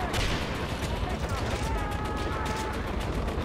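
Constant rattling gunfire in the video game Far Cry 4, a dense unbroken stream of shots that stays loud and close for the whole stretch, with a voice mixed in.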